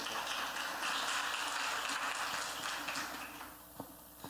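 A church congregation at a Santa Ceia service breaks into applause, a dense, steady wash of clapping that fills the room and then thins out into a few scattered, separate claps near the end.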